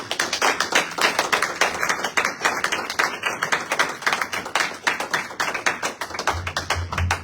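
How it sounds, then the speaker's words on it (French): A French-speaking church congregation claps to acclaim Jesus Christ, with steady, rhythmic hand claps from many people running unbroken and fairly close throughout. "Acclamons Jésus-Christ"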